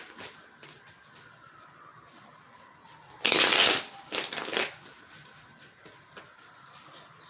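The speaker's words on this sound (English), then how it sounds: "I need to shuffle more, I feel." Tarot cards are shuffled by hand during a reading. After a quiet stretch comes a loud, close riffle lasting about half a second, followed by a softer second burst of card shuffling, and there is no talk over it.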